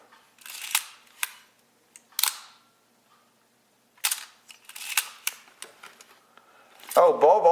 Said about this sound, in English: When the shutter works, it goes from top to bottom, and then it resets coming back up.